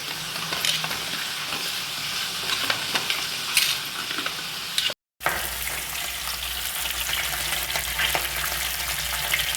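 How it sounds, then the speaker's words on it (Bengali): Rohu or katla fish head frying in hot oil for a Bengali muri ghonto gives a steady, loud sizzle and crackle that runs continuously, broken by one brief cut midway, with no talking. "মাছের মাথা ভাজা হতে হতে কাটা আলুটাতে একটু নুন হলুদ মেখে নেব।"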